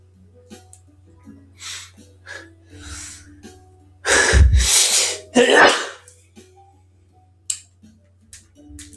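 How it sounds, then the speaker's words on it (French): A single loud, close sneeze with a sharp intake and burst, surrounded by quiet breathing and small rustles. "Attendez, je vais éternuer."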